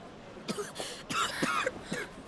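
A character in the video game Final Fantasy 16 coughs several times in short, close bursts with a rough throat-clearing quality, heard alone without talk.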